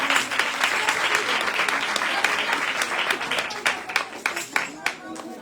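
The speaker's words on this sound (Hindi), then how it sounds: "बताइएगा अपनी तालियों में।" Audience applause follows a children's tableau performance at a Sunday school event, sustained dense clapping that carries on for several seconds and then thins into scattered claps near the end, loud and close.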